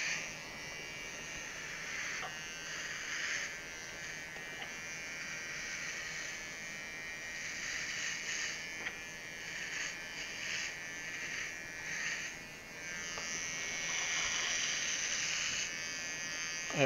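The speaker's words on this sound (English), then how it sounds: "And now we will shave the hair" Near and steady, an electric shaver buzzes against a hair transplant patient's scalp, its hum swelling and dipping slightly in pitch as it moves across the head, with no talk over it.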